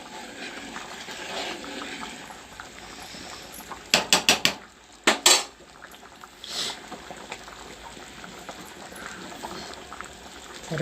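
A spoon stirs gram flour powder into sambar in a pot over a low steady background, with a few sharp clinks of metal against the pot near the middle.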